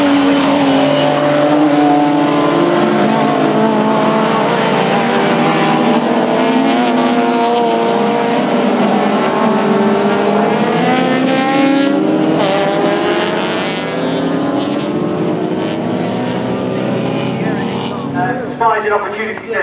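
Saloon racing cars in a 2011 NSSCC round roar past loudly and continuously, engines revving and shifting as the pack passes, with a commentator talking over them throughout.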